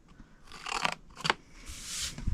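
Scissors cutting cardstock along a score line for a chocolate foil egg treat box, several close rasping snips in quick succession, clear and fairly loud with no talking.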